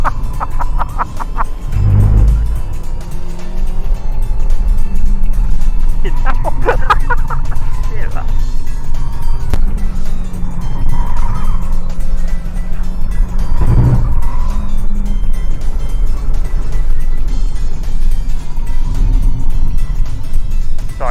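A Mazda 2 driven hard around the Curborough sprint course, its engine droning steadily and loud from inside the car, with brief tyre squeal and bumps and occasional talk over it.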